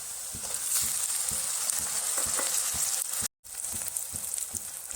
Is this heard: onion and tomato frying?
yes